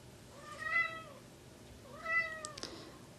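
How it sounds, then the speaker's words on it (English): A house cat indoors gives two clear, drawn-out meows about a second and a half apart, fairly faint and close, followed by a brief small knock. "Please excuse the kitty."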